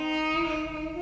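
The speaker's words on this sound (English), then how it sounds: "I've decided to use a duduk, which is actually a Middle Eastern wind instrument" A duduk, the Middle Eastern double-reed wind instrument, holds one steady, reedy note with rich overtones, close and alone for about a second, in tribal-style game music.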